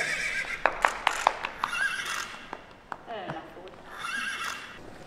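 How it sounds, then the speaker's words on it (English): A pony neighs and whinnies during an outdoor magazine photoshoot, loud and close, with sharp repeated bursts and hoof clip-clops between them. People talk and call out around the calls. "React to some neighing."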